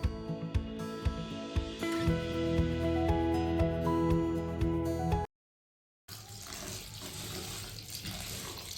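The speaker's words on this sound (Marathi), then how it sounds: "तांदूळ स्वच्छ धुवून 10 ते 15 मिनिटे झाकून ठेवू।" Water runs from a tap over biryani rice being washed for veg biryani, a steady splashing stream, then a brief silence before a softer flow of water resumes.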